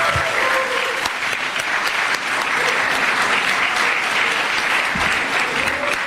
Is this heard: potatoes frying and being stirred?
no